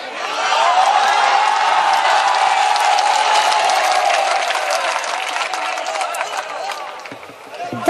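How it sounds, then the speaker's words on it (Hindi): Loud, sustained applause from a mushaira audience on their feet, dense clapping filling the whole stretch and easing slightly toward the end, with crowd noise mixed in. "एक बार पूरा मजमा खड़े होकर तालियां बजा दे"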